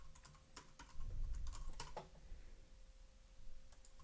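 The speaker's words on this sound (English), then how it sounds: "the Bluetooth keyboard technology is subpar" Fingers tap away on a Bluetooth keyboard, a close run of quick irregular clicks that bunch into bursts and briefly pause before resuming, with a faint hum underneath.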